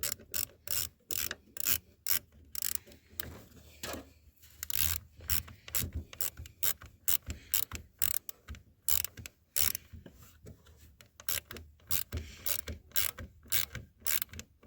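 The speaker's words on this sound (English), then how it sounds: "7mm on the plug connector in the back, and it should just thread itself right out." Ratcheting clicks of a 7mm tool unthreading the bolt on a wiring plug connector of an 88-98 Chevy 3500 truck, coming in quick bursts with short pauses, close and fairly quiet.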